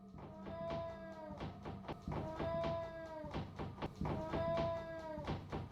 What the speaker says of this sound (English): the low sound his cat makes, as if she is truly terrified